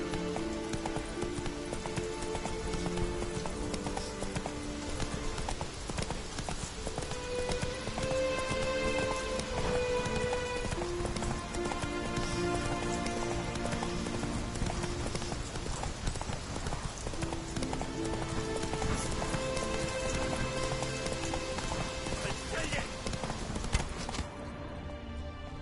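The horse Roach in The Witcher 3 gallops with a rapid, steady clip-clop of hooves that runs throughout, mixed with rain-like patter and a musical score.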